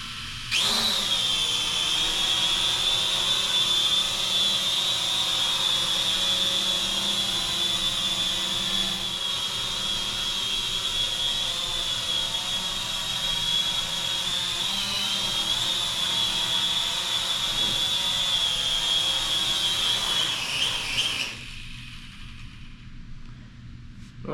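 A small drone flies indoors under a ceiling fan, its propellers giving a continuous high-pitched whine, close and steady for about twenty seconds before stopping abruptly.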